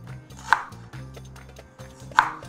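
A white onion sliced thinly with a knife, two sharp close chops against a cutting board spaced well apart, with quiet kitchen hum in between.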